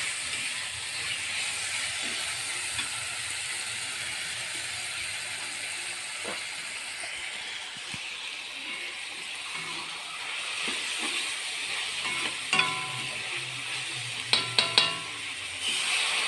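Shrimp, tempeh and bitter melon stir-fried in a pan give a steady, close sizzle and hiss, with a few clinks and scrapes from the utensil toward the end.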